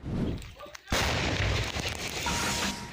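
A single loud 122 mm artillery gun firing cracks out suddenly, followed by a long rumbling roar that fills the rest of the clip.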